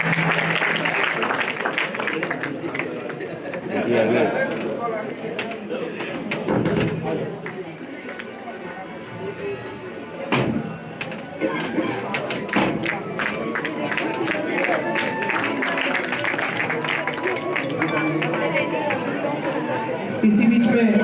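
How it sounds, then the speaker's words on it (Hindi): Audience at a convocation ceremony of Shri Mahavir Vidya Niketan in Nagpur applauding: a dense, steady wash of clapping lasting a long stretch, with voices and chatter mixed in. "एक बार पुनः जोरदार करताल ध्वनि से स्वागत"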